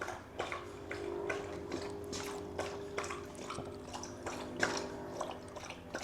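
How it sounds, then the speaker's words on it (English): Hank, a pet dog, lapping water from a bowl indoors in a quick irregular series of wet splashy laps, close and fairly quiet. "Hank always starts drinking water when I turn the camera on"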